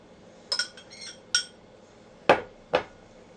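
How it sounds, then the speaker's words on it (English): A utensil clinks and scrapes against a bowl while a beaten egg is mixed into a molasses mixture, giving a few sharp knocks spaced over a few seconds with quiet in between. "And you mix in the egg."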